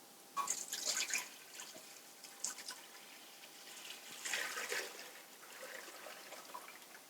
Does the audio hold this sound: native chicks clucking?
no